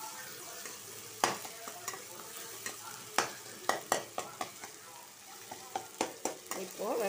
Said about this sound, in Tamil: கேரட் எல்லாம் நல்லா வதங்கிடுச்சு